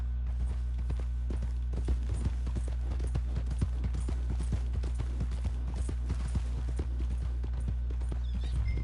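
A horse gallops in Red Dead Redemption 2, its hooves pounding in a fast, continuous clip-clop rhythm over a low steady rumble, with no talking.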